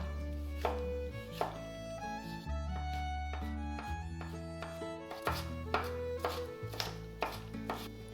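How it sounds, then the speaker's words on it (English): A knife finely chopping onion and tomato on a board for a spiced paneer bhurji, giving a rapid series of crisp, close chops in uneven bursts over steady background music. "You want to chop the onion very finely so it doesn't stand out and you don't get those chunky bites."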